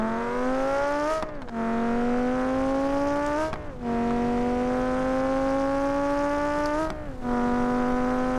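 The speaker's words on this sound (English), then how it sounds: "Neutral, full boost, dump the clutch, stay in first." Vivace street car in BeamNG.drive held in first gear at full boost after a clutch-dump launch: a loud, close engine note that climbs steeply in pitch, drops sharply, then climbs again several times over.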